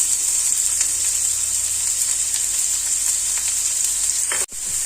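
Finely chopped large onion with curry leaves frying in a pan for samosa filling, a loud continuous close sizzle with faint stirring ticks and a brief break near the end, no speech.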